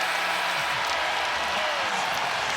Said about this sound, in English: And yes, they're cheering for their Mavericks as well.